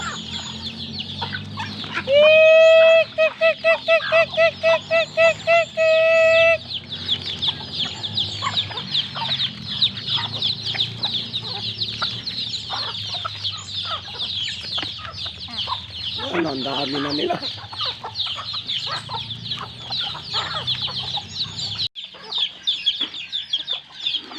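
A flock of native chickens clucks steadily nearby, with a burst of rhythmic high-pitched calls early on and a brief low call midway.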